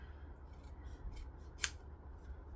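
Scissors snip through embroidered fabric candy cane holders with a single crisp, close cut standing out against quiet low background hum, preceded by faint soft handling sounds.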